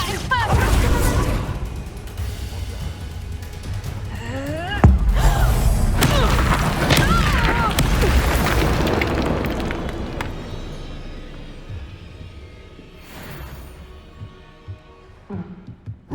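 A Confringo blasting spell explodes in Hogwarts Legacy amid loud booms, thuds and crashing impacts, with layered combat effects and a voice speaking over the busy rumble before it fades toward quieter tail sounds.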